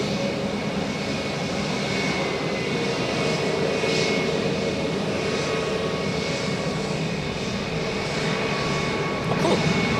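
A Pegasus Airbus A321neo jet taxis at Zurich Airport, its engines giving a steady, moderately loud whine and rumble that holds evenly, with a brief knock near the end.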